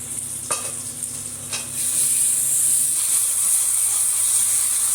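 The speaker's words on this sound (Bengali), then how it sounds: "ভালো করে নাড়াতে হবে" Chicken curry is stirred while frying in oil: two sharp scrapes of a spatula over a gentle sizzle, then a sudden loud hiss of hot oil that continues steadily to the end, close by with no voices.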